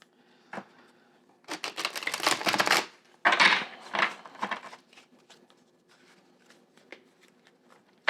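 Tarot cards are shuffled in quick riffling bursts, two longer fluttering runs followed by lighter taps and flicks, close and crisp, with no talking.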